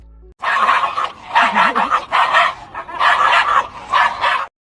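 Two small dogs sitting on their owners' laps bark, yip and snarl at each other in a fight, with loud, close bursts of barking coming in repeated rapid volleys.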